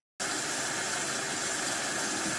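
Heavy rain played as a test backdrop for Edifier EVO Buds earbud microphones: a dense, steady, loud hiss that starts abruptly and continues unbroken, with no voices.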